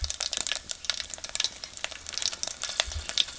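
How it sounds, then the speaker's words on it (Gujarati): Cumin seeds and dried red chillies crackle and spit in hot oil for a tadka, a dense burst of sharp popping sizzle that stays busy throughout the short stretch. "અને હવે આ જીરું નાખી દઈ અને આ લાલ મરચાં હુકા નાખી દઈ"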